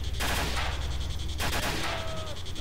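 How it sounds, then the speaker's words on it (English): Gunfire in the video game STALKER, two sharp close-range shots in quick succession, loud and crisp, with a brief pause between them and no talk. "Aim a little high when you're shooting at this range."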